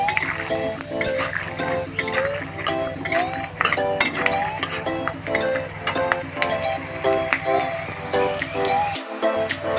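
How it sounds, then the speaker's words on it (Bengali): Peanuts and cashews frying lightly in oil for suji upma, a dense continuous sizzle with rapid metallic stirring clatter against the pan throughout, close and fairly loud, cutting out briefly near the end. "হালকা করে বাদামগুলোকে ভেজে তুলতে হবে"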